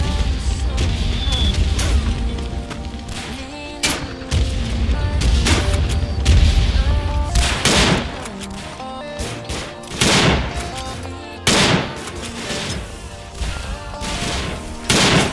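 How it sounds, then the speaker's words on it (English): Artillery shells and gunfire burst across a Planetside 2 battlefield: repeated sharp explosions and rattling shots arrive in irregular bursts over loud, busy game noise, with voices occasionally heard. "Artillery incoming, by the way."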